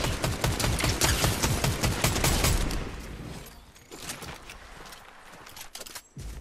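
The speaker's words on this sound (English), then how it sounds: "More gunfire." Dense bursts of rapid video game gunfire from Fortnite crackle and pop for several seconds, then thin out into scattered shots and clatter against a quieter background.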